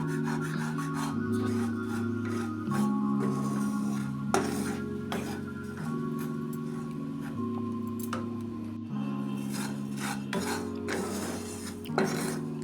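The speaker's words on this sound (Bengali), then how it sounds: "কুরকুরে শব্দটা উঠছে" Dry-roasted ajwain (carom) seeds scrape and crunch steadily as they are stirred in a pan, a continuous rasping with scattered crisp ticks, no voices.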